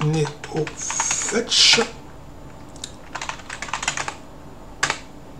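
Quick bursts of clicky key presses on a French-layout computer keyboard while typing commands in a Linux terminal, with short pauses between runs and someone speaking over parts of it.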